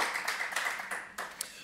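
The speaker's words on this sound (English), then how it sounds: "So, big round of applause for everyone involved in setting up MozFest." Applause from a small meeting audience thanking the MozFest organisers, brief scattered clapping at moderate level that thins out with a couple of louder claps near the end.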